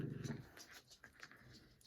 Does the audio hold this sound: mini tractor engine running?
no